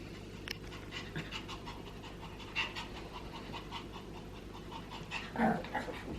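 A dog pants steadily close by, breathing in quick rhythmic puffs with a few low throaty growls and whimpery sounds mixed in, over a constant low household hum.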